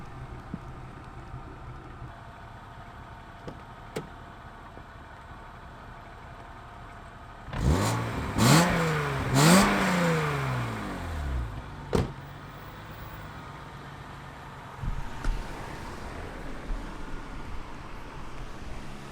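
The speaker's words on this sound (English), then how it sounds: "Cars coming both sides." Cars drive past on both sides in the rain, with one loud pass rising and fading around the middle and a fainter vehicle passing later. Steady background hiss fills the rest.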